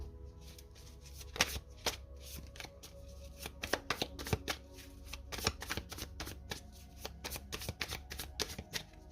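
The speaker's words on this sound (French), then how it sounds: "Allez, on va poser 3 cartes du tarot." Tarot cards shuffled and laid out on a table, with repeated close, sharp card flicks and taps in an irregular rhythm over a faint background hum, no voices.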